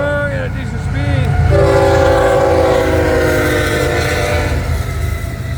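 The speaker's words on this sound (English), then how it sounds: "Came up here at Bayard so I could get this train moving along at a decent speed." A freight train rolls past at a good clip near Bayard, Florida, with a loud steady rumble of wheels and cars, and a long horn blast sounding through most of the pass close to the listener.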